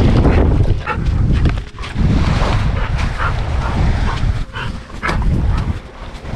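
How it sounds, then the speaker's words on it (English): Dogs on a private island in El Nido, Philippines bark close by over heavy wind rumble buffeting the microphone, the barks blurring into a rough, continuous outdoor din. "Oh, we got island dogs bonus."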